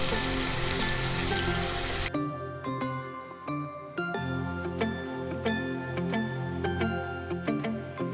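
Onion with garlic and ginger paste frying in a hot pan for a Kolkata-style prawn malai curry; a loud, dense sizzle at first that settles into steady crackling with sharp spitting pops, no talking.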